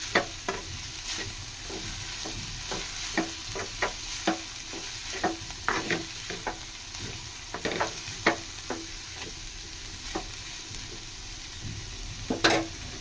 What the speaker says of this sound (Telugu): చూడండి ఈ విధంగా కలుపుకుంటూ ఫ్రై చేసుకోవాలా